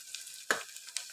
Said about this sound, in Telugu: ఇప్పుడు ఇది ఇట్లా ఆయిల్లో అయితే ఫ్రై చేసుకోవాలి మనం